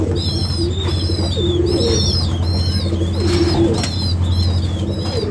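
Pigeon chicks in a hot wooden pigeon house at midday give repeated high, squeaky cheeps in quick rhythmic runs. They sound close and loud over a steady low hum, with no talk.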